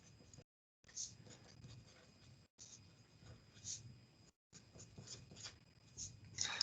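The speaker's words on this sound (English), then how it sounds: "Let me write it down in words." Pen scratching across paper while working out a rabbit-population math problem, a soft continuous scribbling rubbed out in short strokes with brief pauses, fairly close and quiet, with faint room noise underneath.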